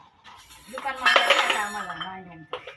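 Utensils and dishes clink and clatter in a short burst, with a voice talking over the noise.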